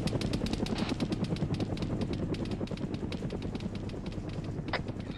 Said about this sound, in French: On se fait shoot, on se fait shoot. Ouais, ça tire un gros calibre.